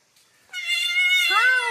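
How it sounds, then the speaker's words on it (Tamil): A newborn goat kid and its mother bleat in a single loud, wavering call about a second long, rising into a higher quavering cry near the end, close by with no talk. "கத்துதுங்க ஆடு, காணு கத்துதுங்க. எப்படி கத்துது பாருங்களேன்."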